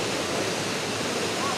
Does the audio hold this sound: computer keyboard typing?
no